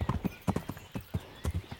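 Horse hooves clip-clopping in rapid galloping rhythm through Kingdom Come: Deliverance, loud and close with irregular clustered strikes and no talking.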